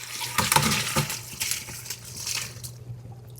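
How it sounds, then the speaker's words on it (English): Water from a pot of boiled potatoes poured off into a sink, a brief splashing gush with a few clinks, fairly faint and fading out toward the end. "Once your potatoes are done cooking, drain the water off."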